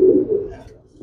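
Racing pigeons kept as pets coo in a low, throaty burst that fades over about a second, close by, with a brief second murmur at the very end.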